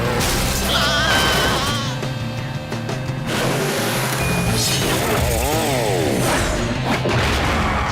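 A big drilling machine runs in an animated Hot Wheels action cartoon, giving a loud, continuous whirring, grinding roar like a chainsaw, with shifting pitch and other busy effects mixed in.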